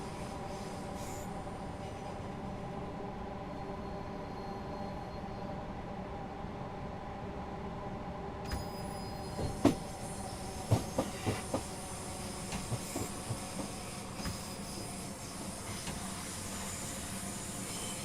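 The LNER A3 Flying Scotsman steam locomotive running on a classic railtour along the East Coastway in the Train Sim World 6 simulator, a steady rumbling drone with scattered metallic clanks and wheel clicks building in the latter half.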